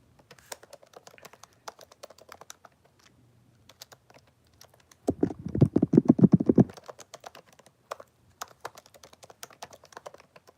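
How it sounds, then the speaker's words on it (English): Fingers type on a computer keyboard in scattered quick clicks, rising to a dense, louder burst of keystrokes midway before thinning back to sparse taps, close to the microphone with no talking. "We are typing away on the computer."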